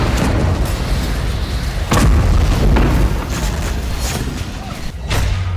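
Explosions during fighting in the West Bank: heavy booms strike at intervals over a loud, rumbling background, with one sharp blast near the middle and more toward the end.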